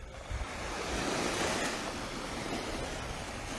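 Ocean surf washing ashore at Paynes Bay Beach, Barbados, at daybreak: a steady, full wash of breaking waves with some wind rumble, close and continuous throughout.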